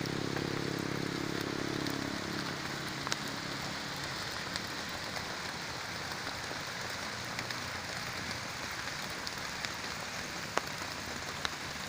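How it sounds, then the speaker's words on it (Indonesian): Steady rain falling outdoors, a dense continuous hiss with scattered drops tapping nearby, even and unbroken throughout with no voices. "Ini posisi hujan masalahnya kawan ya."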